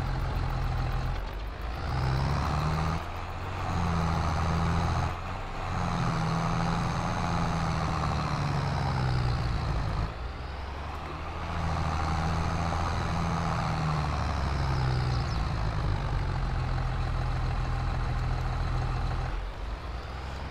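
A heavily modified New Holland 3630 tractor in Farming Simulator 22 drones steadily while pulling in second high gear, a continuous loud engine hum with a few short dips and no talking.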